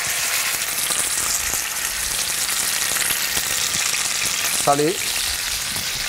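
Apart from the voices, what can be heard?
pork tenderloin searing in a hot cast-iron pot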